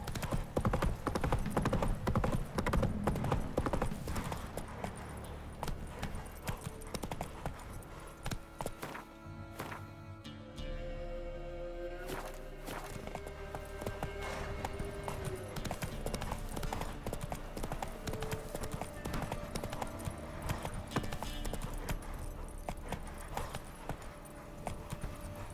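Roach, a horse in The Witcher 3 video game, gallops with steady clip-clop hoofbeats throughout, loud and close beneath continuous game music and effects, with a brief quieter stretch midway.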